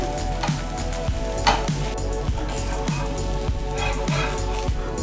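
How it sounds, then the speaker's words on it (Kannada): Akki roti, a rice-flour flatbread with vegetables and greens, cooks in a little oil on a pan with a continuous soft sizzle and small, evenly spaced ticks and pops, close and steady. "ಮೇಲ್ಗಡೆ ಒಂದು ಅರ್ಧ ಸ್ಪೂನಷ್ಟು ಎಣ್ಣೆ ಹಾಕೋತಾ ಇದ್ದೀನಿ ರೊಟ್ಟಿನ ಎರಡು ಕಡೆ ನೀಟಾಗಿ ಬೇಯಿಸ್ಕೋಬೇಕು"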